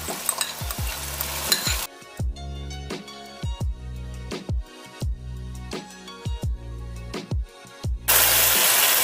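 Whisked yogurt poured over whole slit eggplants for dhaba-style bagara baingan, then stirred: hissing sizzle at the start and end, with a rhythmic series of spoon scrapes and knocks in between.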